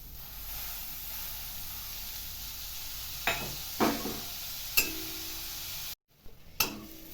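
Onions and grated coconut fry in a pan with a steady close sizzle, broken by a few sharp scrapes and clanks of a stirring spoon against the metal.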